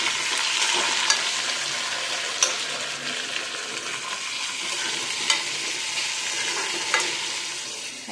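Onions, tomato and garlic fry in a kadhai with a steady sizzle, broken every second or so by sharp scrapes and clinks as a spoon stirs.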